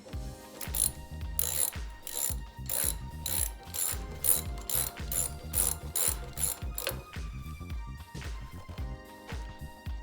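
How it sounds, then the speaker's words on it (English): A ratchet clicks steadily in repeated bursts while tightening the brake caliper bolts on a motorcycle during a brake replacement, the ratcheting close and continuous over a low hum. "Then you can go ahead and tighten them down with the ratchet."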